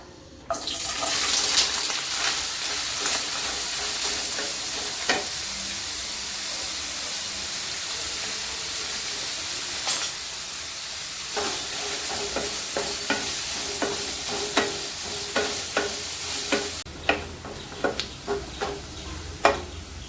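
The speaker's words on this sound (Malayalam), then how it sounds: "ഇനി നമുക്ക് ഇഞ്ചി വറുത്തെടുക്കാം" Washed, chopped ginger fries in a pan with a soft, steady sizzle, as a spoon knocks and scrapes against the pan in a run of sharp clicks that quicken toward the end, with no talking.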